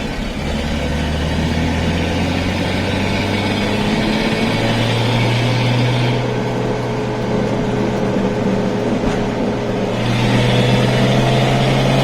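A 1973 Datsun 240Z series 2 pulling hard in third gear on a road, its engine droning loud and steady with a low rising tone throughout, swelling again near the end.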